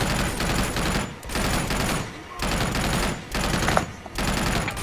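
Sustained automatic gunfire from the video game Uncharted 2, loud, dense bursts of rapid shots with brief pauses between volleys, no voices.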